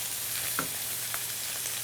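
Italian sausage and garlic frying in a pan, browning with the garlic toasting; a steady soft sizzle with faint scraping stirs, close and quiet, no voices.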